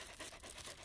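A dog pants rapidly and rhythmically right next to a phone microphone, close and breathy, with no talking.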